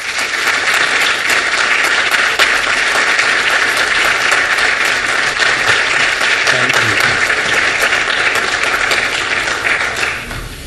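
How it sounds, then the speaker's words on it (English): Sustained, dense audience applause fills a hall at an arts awards ceremony, loud and steady throughout with no break, a few voices faintly mixed into the clapping. "So please give a huge round of applause for Senator Charlie Trump"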